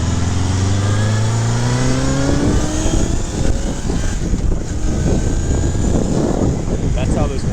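A 1982 Honda CB750K motorcycle rides along, its engine tone climbing through the gears before settling into a steady rushing drone of wind and road noise, loud and close.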